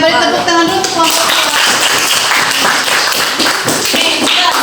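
A classroom group claps their hands in a steady, dense burst, loud and close, with voices mixed in under the clapping.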